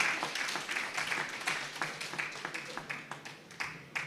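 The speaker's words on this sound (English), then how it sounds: "Let's give them a round of applause." Audience applause at a live-streamed meeting, a thin scattering of claps from a small crowd, faint and brief, tapering off.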